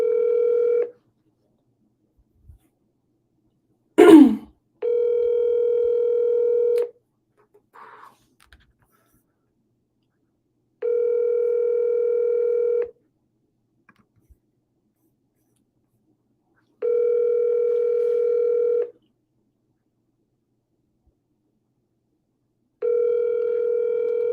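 A telephone call rings out with long, evenly spaced ringback tones separated by silence. A brief burst of dialing or handset noise comes early on.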